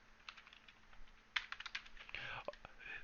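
Clicky computer keyboard keys are pressed in short bursts close up, with irregular taps and a soft voice briefly underneath.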